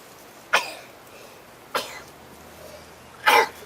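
Three sharp, bursty sneezes spaced about a second apart, the last one loudest, in a quiet setting with no talking.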